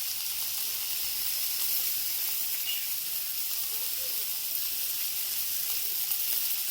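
Tomatoes laid skin side down on a hot grill while making sheesh kebabs give off a steady, even sizzle and hiss that stays level throughout, close and moderately loud, with no talking.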